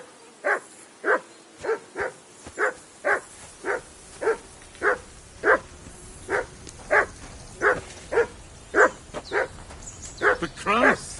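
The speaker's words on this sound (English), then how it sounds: "Henry! Call off that damn dog before he wolfs down the last of our meat." A dog in Kingdom Come: Deliverance 2 barks over and over in a steady rhythm, loud and close, with a few yips near the end and no talk over it.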